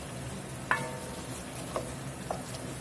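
Tomato paste cooking in a roux in a pot for a Creole catfish dish, a soft continuous sizzle with a few sharp spoon clicks against the pot, fairly quiet and close.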